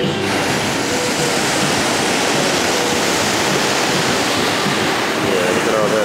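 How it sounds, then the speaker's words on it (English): Ocean surf at Santa Monica, a steady broadband wash of breaking waves and water rushing close to the microphone for the whole span, loud and continuous with some wind noise. "This is the ocean, so it's unlimited water."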